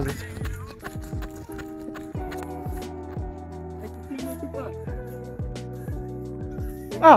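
Horses trot past with a steady, rhythmic clip-clop of hooves, close and fairly loud, while people talk in Bulgarian over them and a brief loud burst comes near the end.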